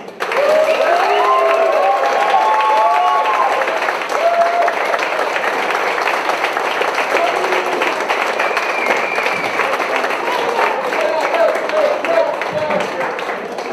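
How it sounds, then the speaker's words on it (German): An audience applauds and cheers a performer being introduced onstage at a radio-drama ensemble presentation, a loud dense burst of clapping with whoops early on that settles into steady sustained applause. "Applaus für Marie Nartusch."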